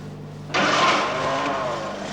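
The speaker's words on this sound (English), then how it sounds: "Now start the engine." A 1970s Chrysler engine fitted with Weber twin carburettors catches after a low background hum and settles into a steady running roar, close and fairly loud, with no talking.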